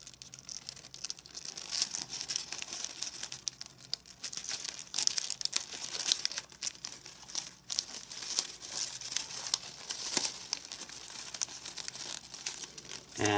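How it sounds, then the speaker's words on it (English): Paper rustles and crinkles while being folded into an origami spiky wig, with soft irregular crackles, creases and small snaps close by, quiet and continuous for over ten seconds, with no speech. "we're going to lock it by folding the flap over."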